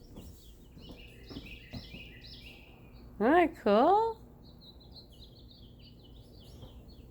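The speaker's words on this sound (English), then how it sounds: "I don't know if you hear the birds." Two bright, rising bird calls ring out clearly outdoors on a spring day, one right after the other, over faint background chirping and a quiet hum, with a person speaking briefly before them.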